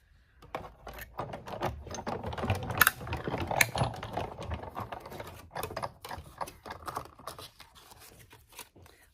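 A die-cutting machine cranks through cardstock to cut a paper rooftop, giving a steady stream of quiet mechanical clicks and ratcheting gear noise up close.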